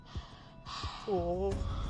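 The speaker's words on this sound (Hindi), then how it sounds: "सांसों की आवाज कहाँ से आ रही है?" Heavy, close breathing with audible breaths and a sigh-like exhale, some voiced and strained, fairly quiet and up close.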